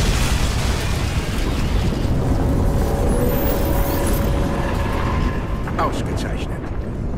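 A deep, sustained rumbling roar fills the whole stretch, loud and continuous like a big blast echoing through a Crysis 2 game scene, with a brief sharper crackle near the end.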